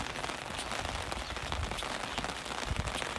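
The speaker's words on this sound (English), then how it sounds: "it might stop raining in a bit" Steady rain falls during a wet weekend in Wales, a dense continuous hiss and patter of drops close by with no talk.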